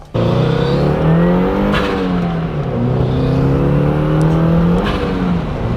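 A Subaru car accelerating hard from inside the cabin, the engine note climbing loud and steady through the gears, with a brief dip at a shift midway.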